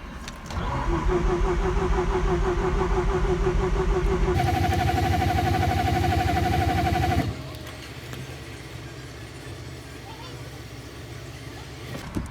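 A Mazda RX-8 rotary engine cranks and catches on the key, revving loudly with harmonic drone for several seconds before settling to a quieter, steady idle; talk is audible in the background.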